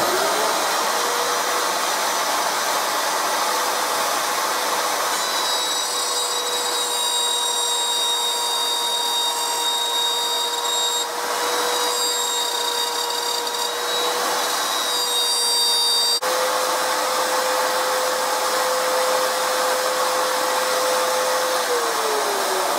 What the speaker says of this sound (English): the first step for fitting the neck is to route out this pocket that the tenon is fitted to